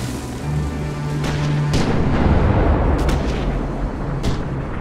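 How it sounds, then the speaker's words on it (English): Artillery strike explosions in the war strategy game Theatre of War, heavy rumbling booms rolling continuously with several sharp blasts cutting through, loud and dense across the whole stretch. "I just initiate another artillery strike"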